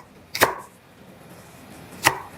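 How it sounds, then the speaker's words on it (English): A knife roughly chops onions for curried goat, giving two sharp, separate strikes on the board with a pause of over a second between them. "I'm just going to roughly chop some onions."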